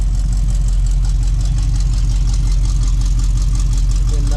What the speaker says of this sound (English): let you hear the dual exhaust on the 67 Camaro.